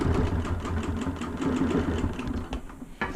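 A BERNINA Q 24 longarm quilting machine stitching in the ditch on a customer's quilt, running as a steady, continuous mechanical whir with a rapid needle rhythm throughout, close and fairly loud.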